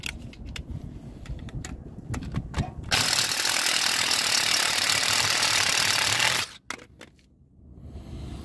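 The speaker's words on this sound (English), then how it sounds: "See if I can take the impact wrench and get it from here." An impact wrench hammers at a stripped vehicle lug nut: sparse ratcheting clicks and rattles first, then a long, loud continuous buzzing burst of several seconds, cutting off into a few final clicks and a quieter hum.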